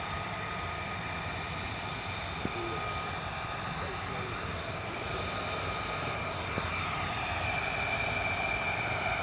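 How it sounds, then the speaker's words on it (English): A US Air Force F-35 fighter jet circles overhead on dogfighting training at RAF Lakenheath, a steady distant engine roar filling the whole stretch with faint voices underneath. "F-35 well and truly up above us, doing circles, a little bit of dogfighting training."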